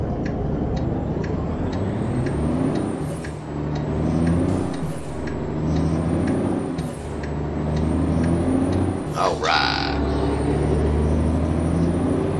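Mack truck in a truck-driving video game: a loud, steady diesel engine drone with a regular ticking indicator, and a sharp hissing air-brake release near the end, with no talk.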